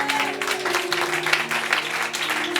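A church congregation applauds in a dense, continuous burst of clapping, with a sustained tonal hum beneath it.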